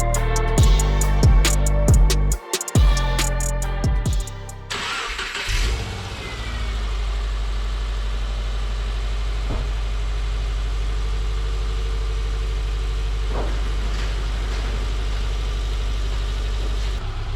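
A Subaru with a JDM EJ253 engine swap, header coating and STI catback exhaust cranks with sharp bursts, catches, then settles into a steady, loud close idle with occasional small blips.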